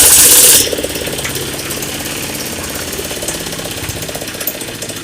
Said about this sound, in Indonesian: ini mesinnya dinyalain. Kita mau proses untuk ngaduk.